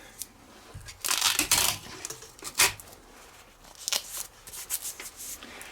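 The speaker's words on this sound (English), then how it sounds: "a little bit of tape here to keep this can together and keep the lead wire on it" Tape is pulled and wrapped around a firework can during pyrotechnic prep, making close ripping and crinkling bursts with brief pauses between pulls, and no one speaks.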